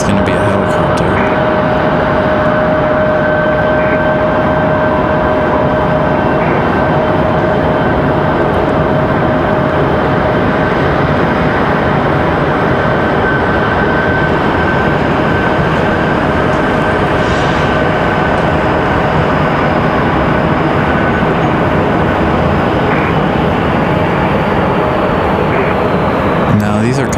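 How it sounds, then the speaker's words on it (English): Helicopters operating near a runway at Raleigh-Durham International Airport, a loud, steady engine drone with sustained tonal whines that holds without a break for nearly half a minute. "Nope, they are the helicopters. I hear them now."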